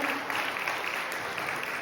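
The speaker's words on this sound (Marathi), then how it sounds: "प्लीज प्लीज त्यांचं सगळ्यांचं स्वागत, मोठ्या टाळ्या झाल्या पाहिजे, जोरात" Loud applause from a school gathering audience honouring the teachers, a dense, steady wash of many hands clapping with no pauses.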